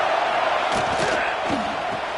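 A stadium crowd at a college football game roars steadily, swelling into a few loud bellowing surges that rise over a constant wash of distant noise.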